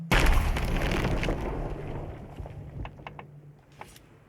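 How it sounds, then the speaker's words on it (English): Explosion in the pirate game Sea of Thieves, heard through spatial audio: a loud low boom at the start that decays into a long rumbling tail, with scattered cracks and debris pops as it dies away. "let's go ahead and hear what this explosion sounds like"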